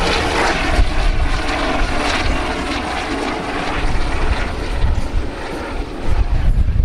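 A helicopter flying a high-speed pass to the right at the Cholet helicopter air show, a loud continuous rotor and engine roar filling the whole stretch without a break.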